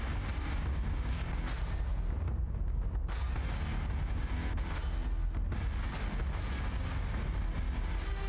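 Missile impacts and explosions in the space combat game Battlestar Galactica: Deadlock, heard as a dense, continuous roar of booming blasts with sharper bursts layered through it, loud and sustained throughout without pause.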